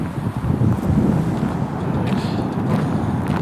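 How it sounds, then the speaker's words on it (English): Wind blowing steadily across a canal towpath beside a reservoir on the Staffordshire and Worcestershire Canal, a continuous low buffeting rumble against the microphone with no pauses. "We'll be out of the wind when I get to the other side."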